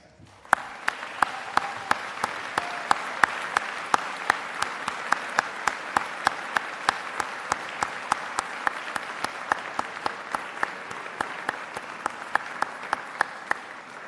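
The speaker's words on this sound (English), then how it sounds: "join me in a round of applause to those who have supported you" Steady applause from a large audience at a university commencement ceremony, continuous hand clapping with sharp individual claps standing out, sustained throughout without talk.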